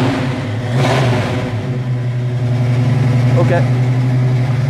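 A car engine runs at a steady, loud idle close by with a low, even hum and a brief rise in revs, while someone speaks briefly over it.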